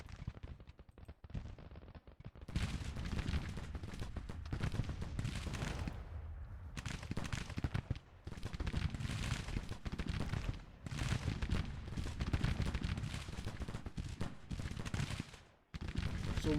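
Musket volleys and artillery fire in a Civil War strategy game battle, dense crackling bursts of gunfire coming in waves with brief lulls between them, loud and continuous across the stretch.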